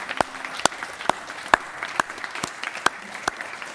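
Audience at a folk costume club evening clapping in slow, sparse, separate claps, roughly eight distinct hand strikes at a relaxed uneven rhythm, close and fairly crisp.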